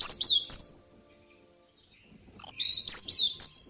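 A brown creeper gives thin, high-pitched, piercing chirps in two short bursts separated by a quiet pause, clear and fairly close.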